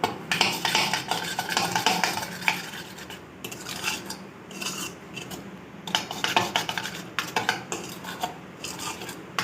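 Chicken pizza ingredients are stirred in a bowl with repeated scraping, clinking and rubbing strokes in an uneven rhythm, close and fairly loud, with brief pauses between bursts.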